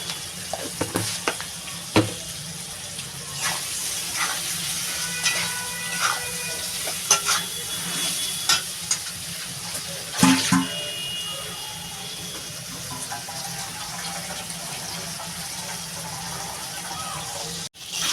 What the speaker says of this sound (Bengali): এটা আমি এবার ভালো করে একটু কষাবো আবার লঙ্কা গুঁড়িটা দিয়ে দিচ্ছি